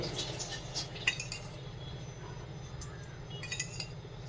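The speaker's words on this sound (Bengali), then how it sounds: "আমি এই চামচের ভর্তি করে 2 চামচ ঘি দিয়ে দিচ্ছি।" A spoon clinks softly against a bowl while ghee is added to a dough mixture for a homemade sweet, with faint scattered taps and scraping.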